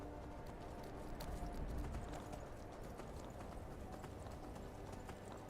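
Horse hooves clip-clop steadily in Skyrim as the mount trots along a path, a continuous rhythmic patter at moderate volume with no voices over it.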